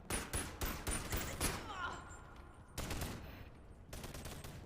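Rapid bursts of automatic gunfire in the VR shooter BoneLab, dense repeated shots in two loud volleys separated by a brief lull, with a voice talking faintly underneath.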